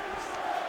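Crowd noise from a UFC 5 video game arena, where fans roar for Stipe Miocic versus Daniel Cormier after an extended grappling battle; a steady, dense wash of cheering fills the whole brief moment.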